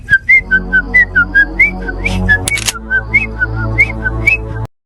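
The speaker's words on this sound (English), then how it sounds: "I'll just whistle a happy tune." A person whistles a cheerful, bouncy tune of short, evenly spaced notes with a steady hum of background music underneath. The melody runs continuously for several seconds and then stops abruptly.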